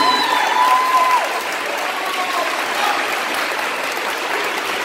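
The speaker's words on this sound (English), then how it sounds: "give yourself a round of applause so you can hear me." Steady, loud applause from a youth rally audience fills the room like a dense wash of clapping, with a brief high whistle early on; the clapping fades slightly after the first second but holds throughout.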